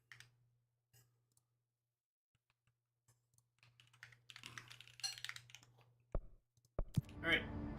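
Fast bursts of typing on a computer keyboard, clicky and close, with a steady low hum underneath that drops out toward the end, followed by a couple of louder knocks and some rustling.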